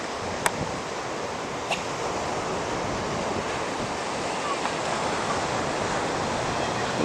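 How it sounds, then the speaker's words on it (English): Ocean surf and wind on the Outer Banks of North Carolina make a steady, loud roar of breaking waves with heavy wind buffeting the microphone, a couple of brief knocks near the start, and no talking. "There's the ocean."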